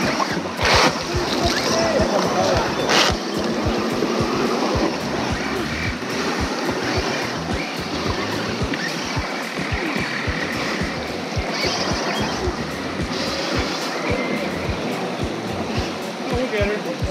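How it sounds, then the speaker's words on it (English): Scale RC truck churning and splashing through water, a steady broadband wash of sloshing and spray with a low motor rumble underneath, continuous and close throughout. "Pushing the water even more."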